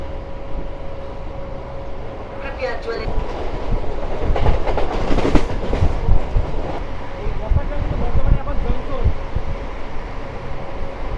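A super fast express local train rushes past at about 90 km/h on a Howrah chord line, a loud, close rumble with rattling wheel clatter and wind buffeting that swells through the middle and stays heavy to the end.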